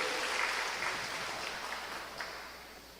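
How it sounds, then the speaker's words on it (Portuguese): A church congregation applauding during a sermon, heard as a steady, dense wash of clapping from many hands that holds for the whole stretch and fades slightly, with no talk. "Pode aplaudir ao Senhor."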